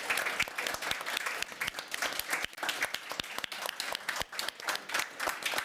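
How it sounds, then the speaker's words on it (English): Conference audience at Ukraine House in Davos breaks into sustained applause, many hands clapping in a dense, steady patter close by, with a brief dip midway before it swells again. "I think we should give them a round of applause."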